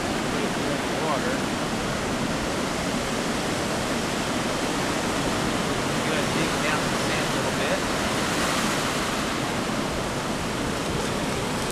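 Water splashing and rushing over an Auxbeam 18W LED off-road light held in water for a waterproof test: a loud, continuous broadband wash of churning water, close and unbroken throughout.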